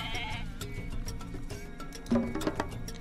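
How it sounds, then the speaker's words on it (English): Several goats bleat in Age of Mythology Extended Edition over a steady background of game music and ambient noise, with one louder bleat standing out near the end. "These goats are gonna move over here."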